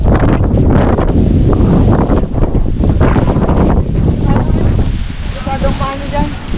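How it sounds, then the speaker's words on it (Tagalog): Strong wind roars and buffets loudly and continuously over sand dunes, gusting against the microphone; faint voices can be heard beneath the blast. "Grabe hangin na."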